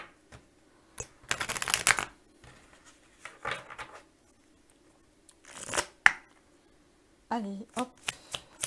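Tarot cards are shuffled close by in several brief riffling bursts separated by pauses, with someone speaking quietly between them.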